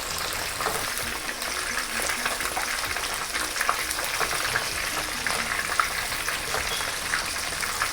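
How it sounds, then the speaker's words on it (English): Pork ribs for crispy Marmite ribs fry in a pot of hot oil on their first fry until light golden, giving a constant loud, close bubbling sizzle with no voices. "We don't have to fry them for long, we just need to fry them until a light golden brown."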